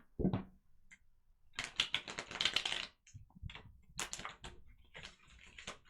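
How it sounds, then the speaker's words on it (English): Tarot cards being shuffled up close in quick riffling bursts, with short pauses between rounds and no talking. "That's enough shuffling."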